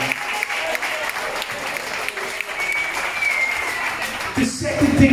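Sustained applause and cheering from a nightclub audience in Tenerife for a birthday singer, steady and fairly loud throughout, with a voice briefly rising over it near the end.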